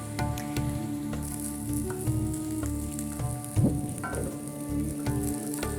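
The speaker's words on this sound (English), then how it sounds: "I hear my pan sizzling" Bulgur and finely chopped garlic sizzling in a pan, a steady close crackle of frying with occasional stirring scrapes and no voices over it.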